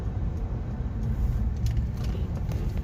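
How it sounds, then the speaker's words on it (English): Steady low engine rumble from a Mercedes C-Class W205 with an automatic transmission, driving along with road noise as it upshifts into another gear, a continuous even drone with no voices. "of course it upshifts, goes into a different gear"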